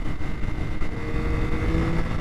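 A 2025 Yamaha R9 sport motorcycle accelerates to overtake another vehicle, with a steady, close engine drone blended with rushing wind that holds at an even loudness throughout, and no talking.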